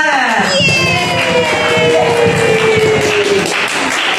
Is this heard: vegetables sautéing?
no